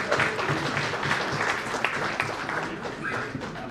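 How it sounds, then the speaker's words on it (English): At an award ceremony, an audience breaks into dense, sustained applause, a crowd of clapping hands that stays fairly loud throughout the short span with no break. "Your applause will be the finest way to appreciate the contribution,"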